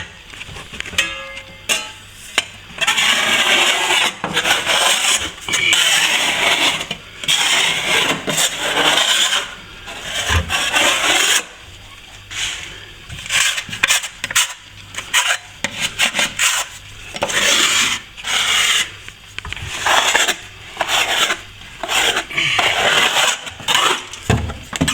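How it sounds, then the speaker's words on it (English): Old plaster being scraped off a ceiling or wall during crack repairs, with long, loud, close rasping strokes repeating almost continuously and only brief pauses between them. "I'll finish scraping off and mix up."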